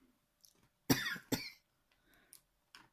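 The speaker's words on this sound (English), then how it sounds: "I apologise in advance for any coughing, spluttering, or I am trying to suppress it." Two sharp coughs in quick succession, close by, in an otherwise quiet room.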